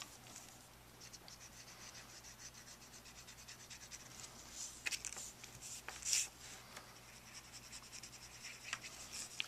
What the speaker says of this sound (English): we could run the marker right along the edge here.